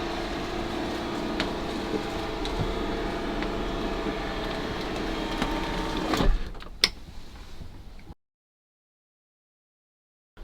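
Electric motor in a campervan bed mechanism hums steadily for about six seconds while the bed folds away, ending in a couple of clunks before it stops and falls silent.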